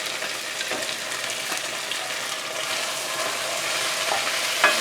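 Halved snap peas hitting a hot pan in a Szechuan chicken stir-fry, giving a steady, bright sizzle with faint stirring scrapes, close and continuous with no talking.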